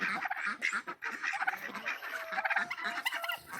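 Male and female turkeys gobble in a repeated, close burst of calls on a foggy, rainy farmyard, with a steady bird chatter running through the whole stretch.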